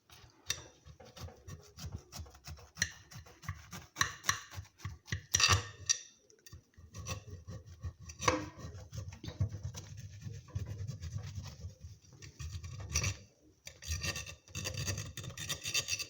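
A knife cuts through a baked caramelized onion blender pie with soft scraping and light ticking taps against the dish, quiet and close, in uneven strokes throughout.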